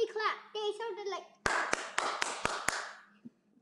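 Someone speaks briefly, then claps hands sharply about six times in a quick, close, evenly spaced burst, imitating how loudly a whole school of classmates clapped.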